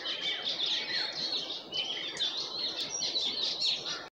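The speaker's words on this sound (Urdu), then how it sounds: "صبح صبح پرندوں کی جو آوازیں ہوتی ہیں جی وہ بہت ہی جو سکون دیتی ہیں اور ابھی صرف پرندوں کا وقت ہے پرندے چہچا رہے ہیں" Birds chirp and twitter continuously in a village before sunrise, a busy layered chorus of small calls over a soft background hush.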